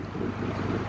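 Steady low wind on a canal beside a narrowboat buffets and rumbles against the microphone, a dense continuous roar with no voices.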